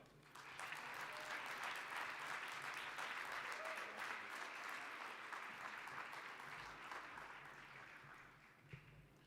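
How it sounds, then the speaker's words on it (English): Sustained applause from a commencement audience honoring graduates, broad and even clapping that swells in quickly, holds for several seconds and fades toward the end, heard from a distance. "please give them a round of applause"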